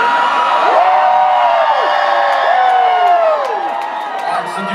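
A concert crowd at the Fillmore in Philadelphia screams and cheers loudly and continuously, with rising and falling whoops from many voices packed close together.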